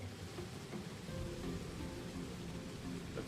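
A rain sound effect layer from a streaming scene plays as a continuous, even hiss of falling rain, moderately quiet and unbroken throughout.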